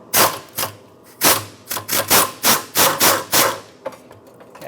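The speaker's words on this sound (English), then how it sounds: "I'm going to put my air tool up in here and see if I can break it free." Pneumatic air tool working on a rear sway bar link nut of a 2014-2021 Mazda 6, giving about eight loud, sharp rattling bursts in a quick, uneven series, up close, with no talking.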